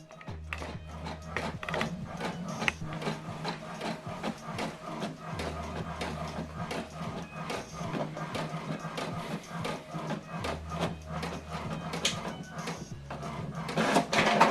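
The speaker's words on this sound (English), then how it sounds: "So we are printing this now from HP Smart app, and the document is printing." HP inkjet printer running a colour print job sent from a phone app, with steady mechanical whirring and repeated low carriage rumbles and ticking feed clicks throughout, close and moderately loud.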